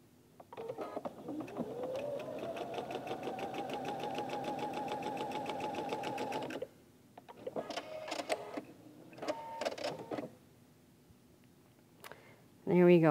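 A home sewing machine stitches a log cabin quilt block in one long steady run, then a few short stop-start bursts, heard close with brief talk between and a clunk at the end.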